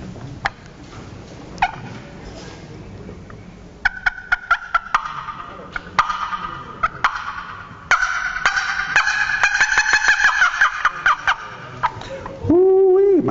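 A man imitates a wild turkey's fly-down cackle with a mouth call at a wildlife supper, delivering a run of rapid, uneven clucks that speed up and end in a loud, sustained note, close and alone.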